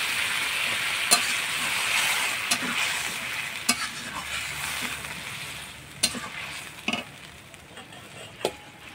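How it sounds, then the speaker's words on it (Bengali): Masala sizzles steadily in a pan for a Bengali fig and prawn curry as hot water is added, with broadband frying hiss throughout and a handful of sharp clinks and scrapes from stirring; no voices. "এবার একটু গরম জল দিয়ে দেবো।"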